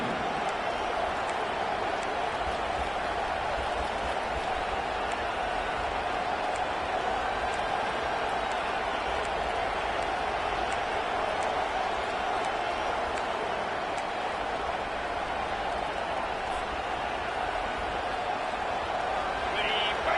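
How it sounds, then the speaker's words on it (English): A loud football stadium crowd roars during a Notre Dame timeout before a fourth-down play, a dense sustained wall of cheering and noise that holds at full strength for twenty seconds. "This crowd busting the decibel meter and trying to will a fourth down stop"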